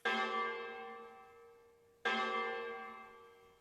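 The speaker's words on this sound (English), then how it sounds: "The heavy bell went regularly up to 12" Two deep, resonant strikes of a heavy church bell, each ringing out and slowly fading before the next, with no voices.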